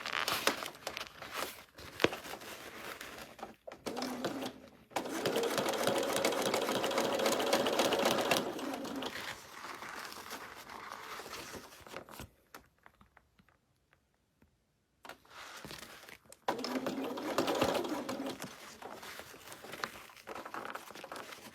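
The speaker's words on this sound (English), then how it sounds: "I want to sew up to where that join is there" Sewing machine stitching a unicorn bag in bursts, rapid whirring runs separated by brief quiet gaps and soft fabric handling, close and moderately loud.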